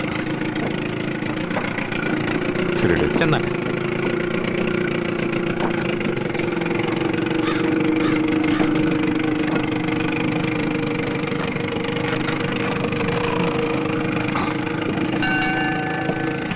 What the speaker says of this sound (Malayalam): താണ്ട ബോട്ട് വന്നു.